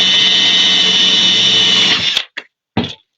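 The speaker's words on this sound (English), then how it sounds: "Pull your trigger faster as it gets down into the shell." A power drill whines at high speed as it bores a hole through a sea shell, running steadily for about two seconds, then stopping abruptly, followed by two short bursts from the trigger.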